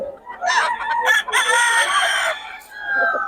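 Roosters crowing at a busy chicken market in Bocaue, a close, loud crow followed by a second fainter call, with clucking in between.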